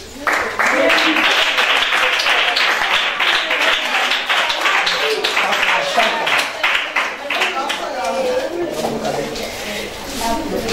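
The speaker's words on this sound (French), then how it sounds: "Félicitations. Applaudissements." Crowd applause at a children's Christmas event held by a foundation, a long, loud run of many hands clapping that wavers in intensity, with talking and cheering voices mixed in throughout.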